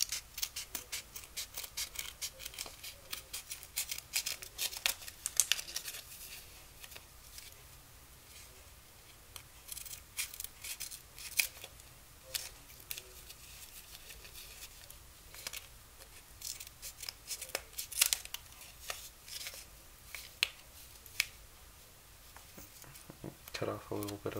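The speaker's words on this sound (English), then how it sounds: "take your scissors and cut around all of the hot glue" Quiet, irregular snipping and crisp cutting clicks of scissors cutting fabric mesh around hot glue, close up, recurring in bursts over a long stretch, with a voice talking at times.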